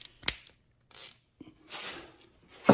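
A small ratcheting thumb-drive speed wrench clicks in short bursts while removing a reverse-light assembly on a Dodge Intrepid, with quiet pauses between turns.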